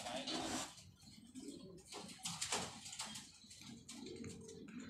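Racing pigeons (parwazi kabootar) cooing close by in a loft, soft repeated throaty calls with faint rustling and low voices in the background.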